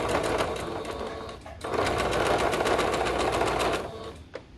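A sewing machine stitching a curved seam on slim joggers, a loud rapid whirring run that pauses briefly near the middle and resumes before slowing to a stop, heard up close with no talking.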